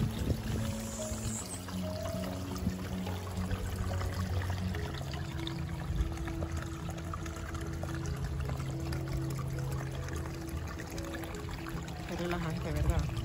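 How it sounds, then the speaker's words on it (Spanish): A small garden waterfall on a home patio gives a constant soft trickle and splash of falling water, steady throughout, with faint low background hum and no clear talk. "Una cascadita, es su patio."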